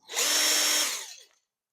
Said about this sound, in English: And my drill died.